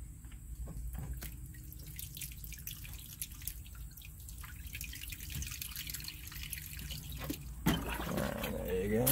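Water and apple cider trickle and drip into a smoker's drip tray below pork chops, a steady close patter of small drops with a louder splashy pour near the end.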